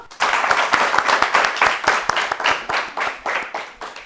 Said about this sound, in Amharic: አጨብጭቡላቸው።